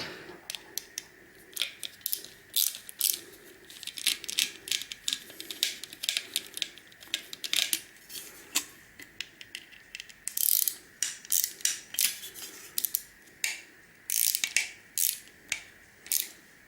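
Spring-mounted screws being worked out of a fax machine, a long run of close ratcheting clicks and mechanical rattles in quick uneven bursts, with no talk over them.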